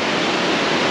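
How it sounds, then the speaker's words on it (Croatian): Continuous dense rush of falling water from a waterfall on a sheer rock wall in Durmitor's mountains, heard as a loud even roar for the whole moment, with nothing else over it. "vodopad."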